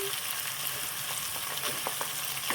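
Green chillies hit hot oil in a frying pan while cooking fried daal mash, giving a steady close sizzle with faint crackles and stirring clicks throughout, no voices.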